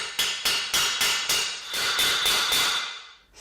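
A hammer drives a 55 mm bushing driver against a bearing race in a Jaguar S-Type differential, about nine sharp metallic blows in a steady rhythm, each with a ringing tail.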